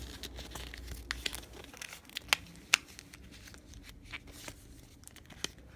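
Paper being creased and folded by hand for a four-sided origami ninja star, with soft crinkling and a few sharper crisp snaps scattered through a quiet room.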